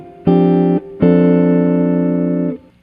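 A jazz guitar chord inversion with the melody note on top rings out clean, struck twice: a short chord, a brief pause, then a longer sustained chord that fades.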